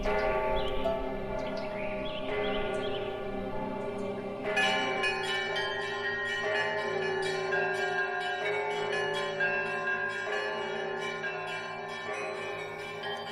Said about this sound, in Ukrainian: З усіх усюд долинає дзвін, який прославляє Спасителя.